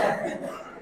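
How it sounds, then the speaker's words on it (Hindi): Someone in a chemistry classroom gives a single short, fairly close cough that fades quickly. "ये खांसी हुई है"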